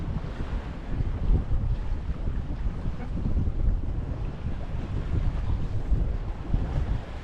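Wind gusting across a sailboat at sea and luffing the sails, a continuous rough rush of buffeting air and flapping cloth with water noise beneath, loud and close with no voices.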